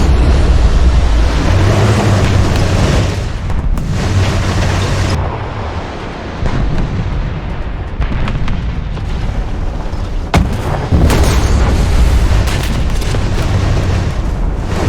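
Heavy artillery fire from a Sturmtiger in the War Thunder tank game: loud, sustained low booming rumble with a few sharp blasts, continuous throughout without speech.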